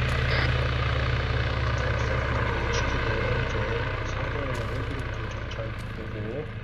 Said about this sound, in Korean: 헬기 소리.